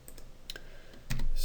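A few separate keystrokes click on a computer keyboard while letters are typed into a selection list, sparse and close-up, with a brief louder burst near the end.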